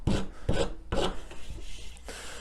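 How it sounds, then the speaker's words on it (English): Several quick rasping scratches, close and distinct, as grooves are scored into the ramp of a homemade mousetrap so mice can grip it, followed by a longer scrape. "I'm going to put a few scratches in here though, just to make sure they can get some good purchase."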